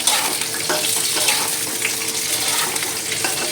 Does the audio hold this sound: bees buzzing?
no